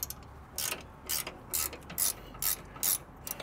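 Ratchet clicking in short bursts, about seven spaced strokes, close and fairly quiet, while bolts are tightened on a Toyota 4Runner running 35-inch tires.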